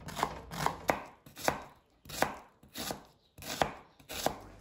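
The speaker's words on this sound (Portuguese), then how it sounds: "Vou picar a cebola assim em cubos." An onion is diced into cubes with a knife on a board, eight crisp, evenly spaced chops, close and clear with no talking.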